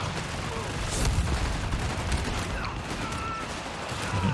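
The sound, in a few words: MP40 and machine gun fire in video game Company of Heroes 3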